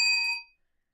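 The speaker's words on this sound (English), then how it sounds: "it's the first time today for the Elon Musk bell" A single bright bell ding used as a sound effect, ringing clearly and fading out within half a second into silence.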